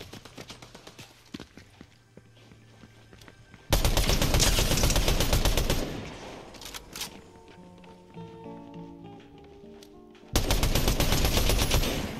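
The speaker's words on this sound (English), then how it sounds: "Who is shooting me now?" Bursts of automatic gunfire in a Fortnite Chapter 5 match, loud sustained volleys separated by quieter stretches with scattered single shots and game sounds, no talking.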